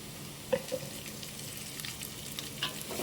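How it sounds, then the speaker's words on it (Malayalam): Onions sizzle quietly as they are sautéed in ghee for tomato rice, with soft, steady frying and a few light spoon taps against the pan. "ഈ ചേർത്ത് നന്നായിട്ടൊന്ന് വഴറ്റിയെടുക്കണം."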